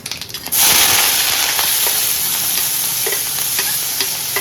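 Chopped onions hit hot oil with cumin and curry leaves for besan bhurji, flaring into a loud sustained sizzle after a quieter start, with occasional stirring scrapes and pops.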